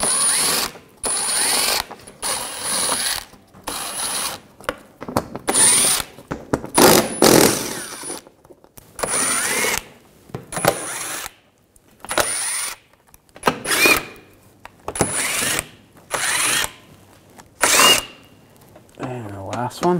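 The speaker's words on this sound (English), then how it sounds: "We're gonna remove this shield, use an 8 millimeter socket," Power ratchet with an 8 mm socket backing out the lower shield bolts on a 2007-2013 BMW 328i, bursts of buzzing whir repeating in short runs with pauses between, close up.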